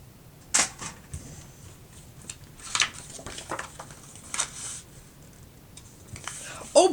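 Card paper being cut in half for a handmade greeting card: a string of short, crisp snips and slicing strokes at close range, spread irregularly across the clip with soft handling noise between them.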